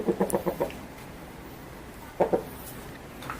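A chicken clucks in two short bursts of quick, close calls separated by a pause, over steady low background noise.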